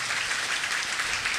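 Audience applause at a Hindu Bhagavat katha religious discourse: a steady wash of many hands clapping, moderately loud and continuous, with no talking over it.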